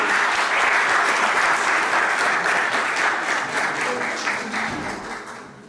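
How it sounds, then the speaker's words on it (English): An audience applauds Dr. Vedapalli at a formal gathering: a loud, dense round of clapping from a crowd that holds steady, then gradually tapers and thins toward the end. "And a round of applause for Dr. Vedapalli."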